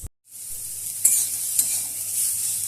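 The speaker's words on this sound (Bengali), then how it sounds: "এই দেখো এটা কলা ভাজা হচ্ছে" Plantain fries in oil in a pan: after a moment of silence a steady sizzle rises, broken by a couple of quick stirring scrapes, fairly close and without talk.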